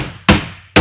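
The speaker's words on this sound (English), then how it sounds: "The hammer noises, I love it" Nails being driven with a hammer: two sharp, loud, close strikes about half a second apart, each ringing briefly before fading.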